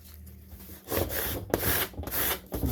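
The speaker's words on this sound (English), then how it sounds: "Now we're going to take our squeegee." A squeegee is dragged across a vinyl registration decal in repeated close, rough rubbing strokes, each a dry scraping swipe, with short pauses between them.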